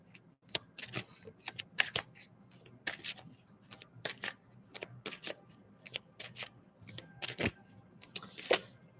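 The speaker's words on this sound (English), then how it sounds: "let me pull these cards." Tarot cards are shuffled and pulled by hand during a reading, giving irregular bursts of crisp riffling and flicking, close and fairly quiet, with short pauses between shuffles and no talking.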